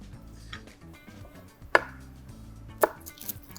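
A chef's knife chops garlic cloves on a cutting board during a cooking demo, giving two sharp, distinct cuts against the board with faint kitchen clatter around them.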